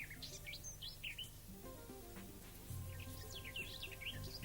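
Birds sing in open countryside at Kauwberg: quiet, repeated chirps and tweets drift in from a distance over a low steady background hum.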